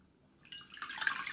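Water splashes up from a bowl onto a face being rinsed of a clay mask; a quiet start gives way to wet, sloshing splashes that grow louder toward the end.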